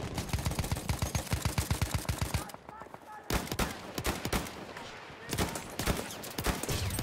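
Rapid automatic gunfire in the World War I shooter Battlefield 1: a dense burst of close, loud shots at the start, then more scattered bursts and single cracks against battlefield noise.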